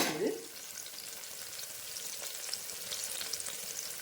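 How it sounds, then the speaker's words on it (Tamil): Green chili paste and curry leaves sautéing in hot oil for a white vegetable kurma, a steady close sizzle and crackle with a brief stir clatter at the start, no talking. "இது கூட 2 கருவேப்பிலை வதங்கிட்டு,"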